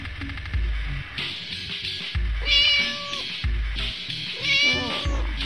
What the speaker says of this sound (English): Little cat. Little cat.